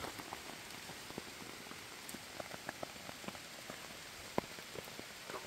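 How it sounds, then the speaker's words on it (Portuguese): Rain falling steadily in a forest during a hunting wait, a soft continuous patter with scattered individual drops striking nearby surfaces, faint and even throughout with no voices. "Bastava a tentação dos cachorros, agora é chuva."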